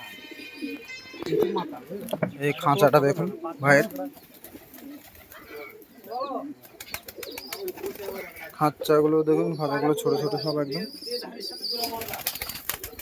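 Caged Andhra pigeons coo and flutter their wings in small cages at a pigeon seller's, bursts of flapping and low coos heard close by under someone talking throughout.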